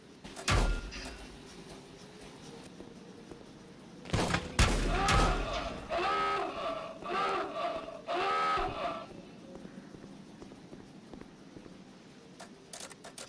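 Turrets firing in bursts at enemies in the game Volcanoids, with a couple of sharp blasts followed by rapid, rattling volleys in the middle, then a quieter rumbling backdrop.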